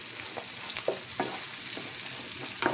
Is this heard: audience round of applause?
no